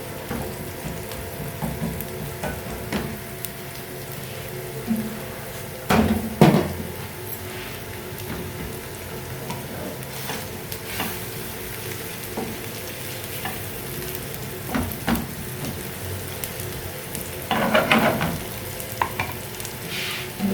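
Onions frying lightly in a pan for a home-cooked egg shami curry, a constant low sizzle marked by occasional louder clatters and scrapes of stirring, close and with no talk.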